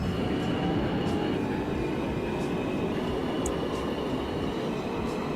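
An N subway train in the OpenBVE simulator game runs at a steady, loud, continuous rumble of wheels on track, with faint squeals now and then.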